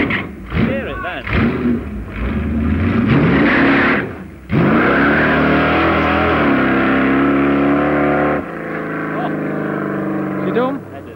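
A nitrous-fed drag racing car at York Raceway in the mid-1980s, loud engine roaring and revving nearby with sharp rising and falling sweeps and a brief drop, while people talk over it.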